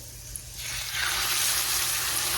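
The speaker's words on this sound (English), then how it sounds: "I'm going to let it sear until it turns brown on each side" A chuck roast dropped into a hot pan with garlic, rosemary, butter and bacon grease, starting quiet then swelling into a loud, steady close-up sear hiss that holds to the end.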